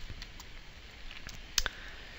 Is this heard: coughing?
no